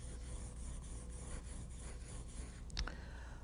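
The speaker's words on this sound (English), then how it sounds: "Sand the edges of the fuselage and tail piece so they are smooth." Sandpaper rasps repeatedly along the edges of a foam glider fuselage and tail piece, a steady scratchy rubbing with regular strokes, close and fairly quiet, with no talking.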